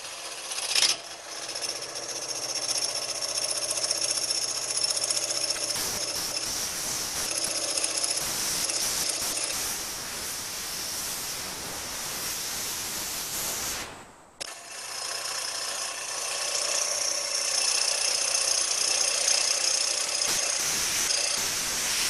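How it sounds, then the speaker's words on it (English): A bowl gouge cuts wood on a lathe at higher speed, leveling a turned piece in a woodturning demonstration: a steady, loud, close rasping hiss that runs almost continuously, broken once by a brief dip before resuming. "I'm going to just take a bowl gouge with a little bit more speed."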